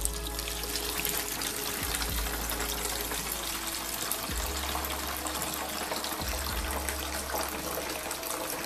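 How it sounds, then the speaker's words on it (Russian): Steady water streaming and splashing, a continuous rushing flow that runs unbroken for several seconds, close by. "Открываем кран."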